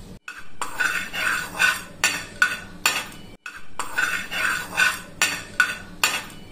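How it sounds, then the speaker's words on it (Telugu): Nine cloves dry-roasting in a pan for homemade vangi bath masala, with a spatula scraping and clinking against the metal in a repeated rhythmic stirring pattern, close and clear with no talk. "ఇప్పుడు ఇందులోకి మనము 9 లవంగాలను కూడా వేయించుకుంటున్నాము."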